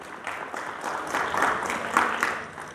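Applause from the audience at a mushaira during a multilingual literary conference in Ambajogai, a dense burst of clapping that swells slightly midway and holds for a few seconds.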